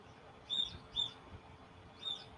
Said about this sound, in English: birds are screaming in the background.